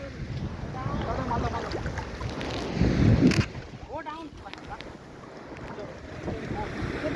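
A fishing boat moves across open water near Cambodia, its steady hull and water wash mixed with wind buffeting the microphone and a louder surge midway; people talk nearby.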